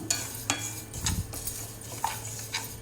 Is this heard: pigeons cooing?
no